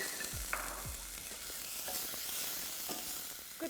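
Finely diced brown onion frying in mild olive oil in a pot over medium-high heat, a steady close sizzle with a few clinks and scrapes of stirring and no talking.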